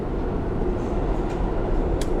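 A steady low rumble of a train rolling along, continuous and fairly loud, with a faint hiss and a brief high squeal near the end.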